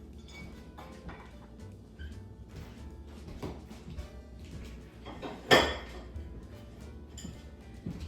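Green dishes are set down on a table one after another with light clinks and soft knocks, followed by one sharper, louder clatter partway through, all close and quiet.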